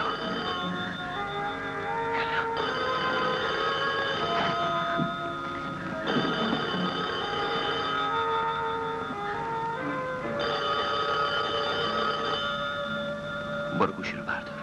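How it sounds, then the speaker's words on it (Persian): A telephone rings in a house, steady repeating bell tones running through the whole stretch with music beneath them. "تلفن."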